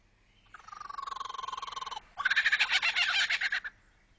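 A lyrebird mimics a kookaburra's call: a rapid run of repeated cackling notes, then a louder, harsher burst of chattering laughs, close and clear with no talk over it.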